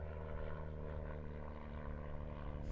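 Pitts GMAG aerobatic biplane with a 200 horsepower Lycoming engine at an aerobatics championship, a steady, full-throated propeller drone with strong low harmonics holding at constant level throughout.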